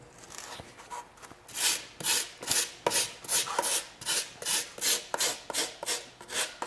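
A small hand rasp files a taxidermy pack mount in quick, evenly spaced scraping strokes, about a dozen close rasping pulls in steady rhythm, without talk.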